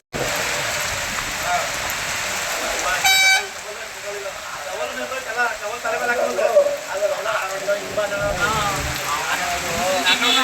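Heavy rain pours steadily at night in a continuous loud hiss, with a vehicle horn tooting briefly early on and faint voices underneath.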